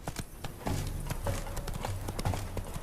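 Horse galloping in The Witcher 3, a steady clip-clop of hooves kept up under a low musical drone, close and moderately loud throughout.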